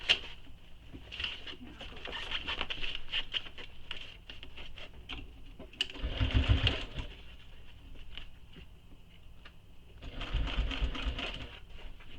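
A sewing machine stitches a bowler bag in quick bursts of rapid patter, pausing between runs, with two louder sustained stretches of stitching.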